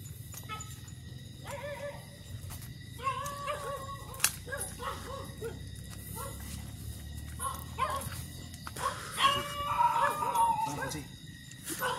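Dog barks at night in a wooded area where hunters are present, several sharp bursts between 3 and 11 seconds mixed with other animal noises and faint voices, moderately distant.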